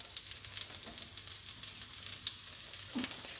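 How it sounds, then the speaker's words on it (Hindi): Garlic frying in oil and melted butter over a medium flame for street-style momos, a steady close hiss and crackle with occasional spits and a brief stirring scrape, no talking. "अब मैं बटर को मेल्ट कर लूँगी। तो मैं इसमें ऐड करूँगी गार्लिक।"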